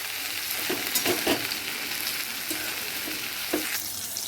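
Eggplant frying in hot oil during home vegetarian cooking gives a steady, close crackling sizzle, with a few louder bursts as the pieces are stirred or shifted.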